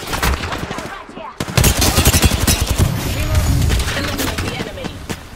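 Rapid gunfire in Apex Legends: dense bursts of automatic shots crack close and loud, with a short pause before a renewed stream of fire and a voice briefly heard amid the shooting.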